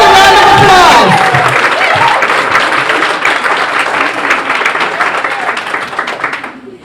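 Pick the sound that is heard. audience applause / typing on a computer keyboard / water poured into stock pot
audience applause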